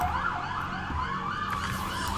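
A fire truck siren wails outside a window, its rising and falling tone cycling steadily and loud over low traffic rumble, with no talk.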